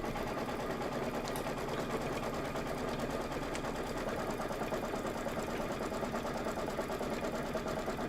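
Embroidery machine stitching a tack-down line, a fast, steady, even mechanical hum and rapid needle rhythm running without a break, close and clear with no talk.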